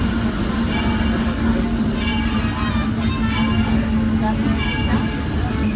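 The Disneyland Railroad train rolls into New Orleans Square Station with a steady rumble and low hum, faint metallic clicks and squeals, while an announcer's voice talks over the continuous rail noise.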